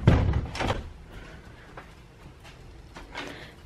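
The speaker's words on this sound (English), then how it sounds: "Let's close the door." A door is pulled shut on a freezing winter day with huskies nearby, giving a couple of solid thumps near the start, then only faint ambient rustling.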